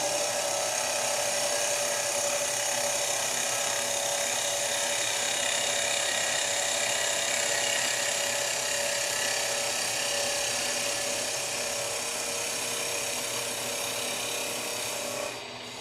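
Turned wood is sanded on a spinning lathe, giving a steady, loud, continuous abrasive hiss that holds evenly for about fifteen seconds before easing slightly at the end, with no talking.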